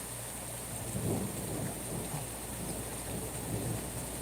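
Steady heavy rain hisses throughout while low thunder rumbles softly in the distance, with no voices.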